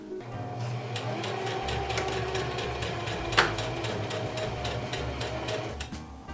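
A sewing machine stitches a dress with a fast, steady rhythmic clatter of closely spaced needle strokes. It is close and moderately loud, with a single sharper knock partway through and no talking.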